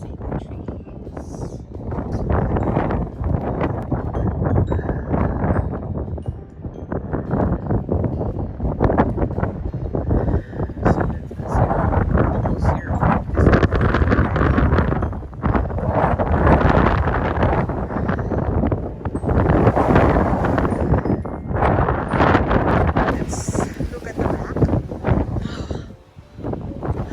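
Gusting wind during a Saskatoon, Canada blizzard buffets the microphone in loud rushing bursts that rise and fade repeatedly, with a person speaking briefly at times.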